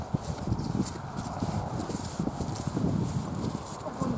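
Horse hooves clip-clopping at the Irish National Stud, a quiet, fairly distant run of irregular hoof strikes on hard ground with soft outdoor ambience and no talk over it.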